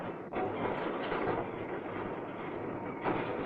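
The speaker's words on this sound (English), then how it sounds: "First on the scene is the borer train." A 1965 British Rail borer train working on West Coast Main Line electrification gives off a steady, moderately loud mechanical rumble and hiss that runs throughout with little change.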